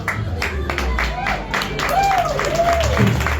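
At a stand-up comedy show, the audience claps steadily for a comedian, with a constant bed of applause and crowd noise while voices speak over it.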